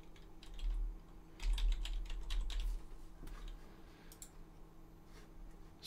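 Quick, light keystrokes tap on a computer keyboard while a username and password are entered, in short irregular bursts of clicking close by in a quiet room.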